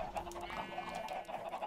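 Chickens cluck in the Minecraft video game, a faint, brief cluster of soft repeated clucks over quiet game ambience.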